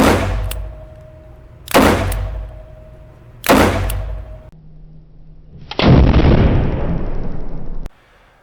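Three sharp, loud shots from an S&W Model 637 .38 Special revolver, evenly spaced outdoors, followed by a longer noisy rush of sound.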